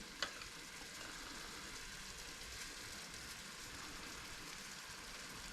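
Half a tin of chopped tomatoes simmers in a pot, giving a steady, soft bubbling sizzle with a faint crackle throughout, fairly quiet and with no voices.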